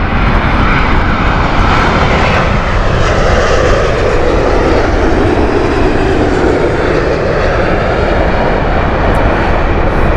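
An aircraft at Heathrow Airport, a loud, sustained engine roar that fills the whole stretch without a break.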